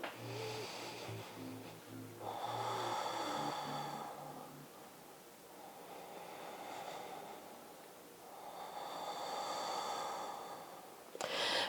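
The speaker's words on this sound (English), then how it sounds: "Let's give it another deep breath or two." Slow, deep yoga breaths during a hip-stretching vinyasa flow, long airy inhales and exhales rising and falling in a steady rhythm, close and fairly quiet, with a faint low hum underneath and no talking.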